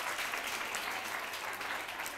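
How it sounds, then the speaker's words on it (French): Sustained crowd applause at a Zarma-language televised talent competition final, dense and steady throughout, heard alone at moderate level. "Applaudissez très très fort."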